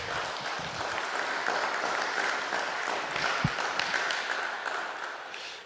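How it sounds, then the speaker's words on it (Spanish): Congregation applauding during a church service, a steady, moderately loud wash of clapping lasting several seconds with a faint voice underneath. "Denle un aplauso ahí al Señor,"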